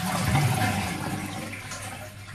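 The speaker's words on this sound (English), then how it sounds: "That's also going to empty the cistern for me." A push-button toilet flush emptying the cistern, a loud close rush of water that starts strong and slowly fades as the tank drains.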